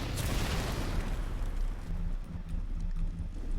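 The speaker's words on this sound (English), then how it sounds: "This is close range to be chucking grenades about like a madman" Grenade blasts in BioShock going off at close range in a tight room, a heavy booming burst up front followed by rumbling low-end aftermath, moderately loud with no talk.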